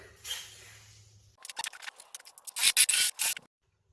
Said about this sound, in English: let me get the jigsaw set up and we'll notch that thing out